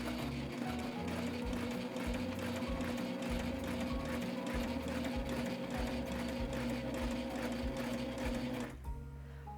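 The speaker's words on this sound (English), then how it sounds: "Now we're going to sew a line of stitches to see our stitch tension." A sewing machine runs steadily, stitching a line through fabric with a fast, even mechanical rattle for several seconds before stopping abruptly.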